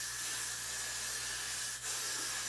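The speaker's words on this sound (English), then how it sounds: "that's massive spray" Continuous close hiss of a fine spray mist from a spray bottle onto a human hair wig, steady with a brief dip near the end, over a low background hum.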